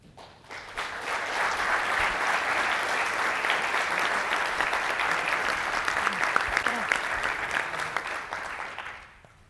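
Sustained audience applause fills a conference hall after a talk, a dense, steady clatter of many hands that starts abruptly, holds evenly for about nine seconds, then cuts off.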